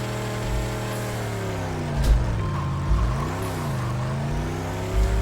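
A 2015 BMW M3 engine in the Racing Rivals game revs steadily near its limiter, harmonics rising and dipping with a few brief throttle blips, alone with no talk.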